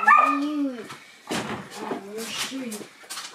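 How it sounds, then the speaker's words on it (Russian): A dog barks and whimpers in a home basement being readied as a shelter, several sharp barks and whines close by, while a person speaks over and between them. "Ну, ты все время нам будет лаять так."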